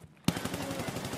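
Automatic gunfire from hip firing in the shooter game Escape from Tarkov, a sudden loud rapid burst of shots running on without pause after a brief quiet start.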